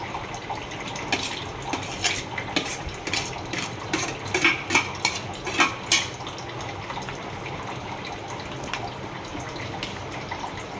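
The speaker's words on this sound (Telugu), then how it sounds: "ఓట్స్ వేసేసుకోవాలి. వేసేసుకొని బాగా కలుపుకోవాలి." A spoon stirring oats into milk, with quick repeated clinks and wet splashy swishes that bunch together in the middle, over a steady watery background and with no talking.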